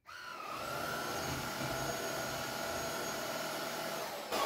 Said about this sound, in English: you vacuum however you want